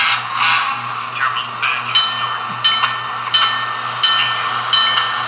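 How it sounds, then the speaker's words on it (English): A sound decoder in an HO scale Broadway Limited Imports PRR Baldwin Shark RF-16 model diesel locomotive runs its air pumps. They give a steady series of close, even hissing pulses, about one every half second, over a low constant hum, with no talk. "Air pumps are the same."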